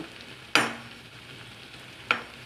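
Onions frying in a pan for chicken biryani give a faint low background sizzle, broken by two sharp clattering spatula or utensil hits, the first louder than the second.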